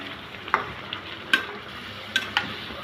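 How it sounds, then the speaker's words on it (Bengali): Chicken with masala, yogurt and a little water being stirred in an oily pan, a soft sizzle throughout broken by four distinct spoon knocks against the pan. "ভালো করে মিশিয়ে নিব।"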